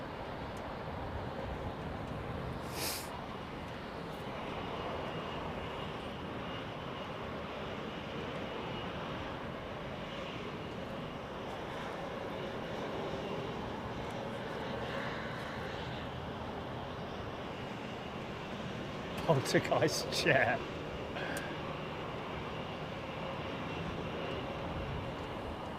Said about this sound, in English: It's an old aeroplane, this.